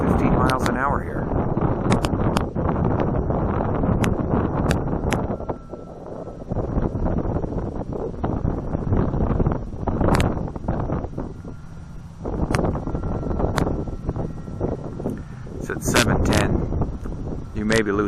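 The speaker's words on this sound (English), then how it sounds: "this wind is getting brutal too" Strong wind of about 15 miles an hour buffets the microphone in heavy roaring gusts that rise and fall throughout, loud and close, with a person talking at times beneath it.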